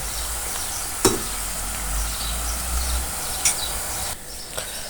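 Papdi, small fried dough crisps for chaat, sizzle steadily in hot oil with a broad continuous hiss, and a few brief scraping knocks come as they are turned over.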